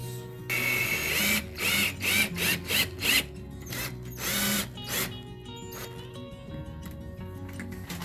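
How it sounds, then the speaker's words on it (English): A power drill driving a socket adapter whirs in several short bursts, starting and stopping repeatedly, then winds down to quieter mechanical clicks and hum. "this is going to go into my drill"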